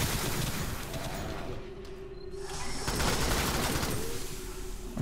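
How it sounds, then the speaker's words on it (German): Sustained bursts of automated sentry gun fire in the co-op shooter Alien Swarm, a dense rattling fusillade that runs loud and continuous throughout, with a brief dip midway. "Ah, die schießen auf uns."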